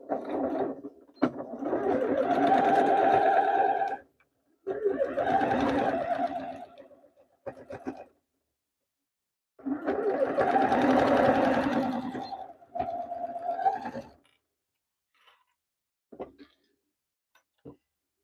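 A sewing machine sews a purse in several close bursts of rapid stitching separated by pauses, with a few clicks and brief handling noises between runs.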